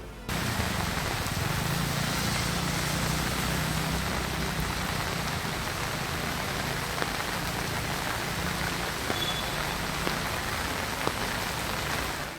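Heavy, steady city rain in Bengaluru, Karnataka, a dense continuous hiss of downpour on streets and surfaces, close and unbroken throughout with no voices.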